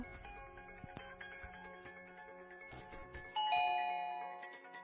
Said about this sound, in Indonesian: Fanny menekan bel, namun tak ada satupun yang datang untuk membuka.